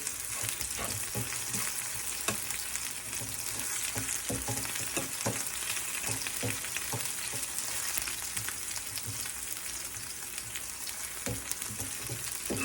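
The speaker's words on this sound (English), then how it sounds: "Let that saute so it gets a little brown before you add the meat." Vegetables sauté in a pan for a mashed cauliflower pie, browning before ground beef goes in; a steady close sizzle runs throughout with light scraping clicks of stirring, and no one talks.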